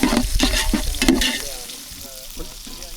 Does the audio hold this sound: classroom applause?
no